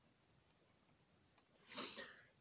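Small scissors on a Ganzo multitool give three sharp, faint clicks spaced apart, followed by a brief louder metallic snip or rustle near the end, heard close up in a quiet room.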